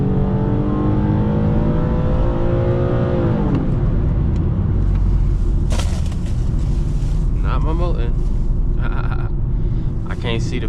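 An Infiniti G37S pulls hard at night, its engine climbing loudly in pitch before a sudden drop as the throttle lifts or it shifts, then heavy rumbling road and wind noise with scattered bursts of sound.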